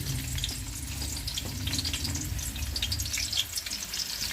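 A steady, crackling sizzle of a medium onion frying in hot ghee, with dense spattering hiss and a low background rumble, close and continuous.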